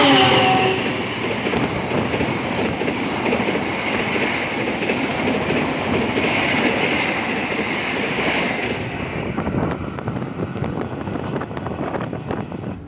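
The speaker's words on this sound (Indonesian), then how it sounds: "Mari kita saksikan KA Taksa Kang Ngebut untuk nyalip KA Jayakarta" The KA Taksaka passenger train speeds past at Karawang station, a loud, steady roar of wheels and rushing air with rhythmic rail clatter, close and sustained before fading near the end.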